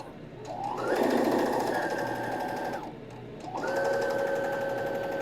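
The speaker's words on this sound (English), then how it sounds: "you want to stop just before you get to that lower edge there on the channel so that you aren't sewing the channel closed" A sewing machine stitches a drawstring bag channel in two runs of a couple of seconds each, a close, steady motor whir with a short pause between bursts.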